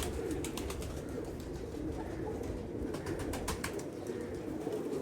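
Pet pigeons, freshly bathed, coo steadily at close range with a continuous low murmur, some brighter chirps and clicks scattered over the top, and no voices.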